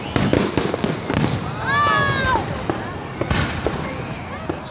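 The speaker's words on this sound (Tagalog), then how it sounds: "Uy, may firework." Several sharp firework bangs and crackles pop in quick succession during Panagbenga 2024, with a whistling streak rising midway, while people talk in the background.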